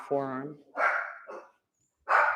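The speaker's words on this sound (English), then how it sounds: "That's my dog making a special appearance." A pet dog barks a few short times close by at home during a yin yoga class, overlapping an instructor's spoken cues.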